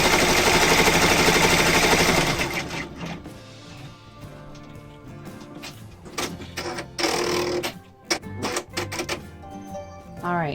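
An in-the-hoop embroidery machine stitches a lined zipper bag, topstitching and securing the layers with a loud rapid run at first. Quieter, uneven stitching bursts and clicks follow close by.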